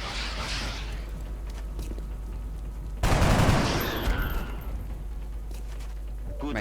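Gunfire in XCOM, a turn-based strategy game, erupts as a loud burst of shots and a blast midway, after a stretch of steady low game ambience, then fades back to a quieter hum.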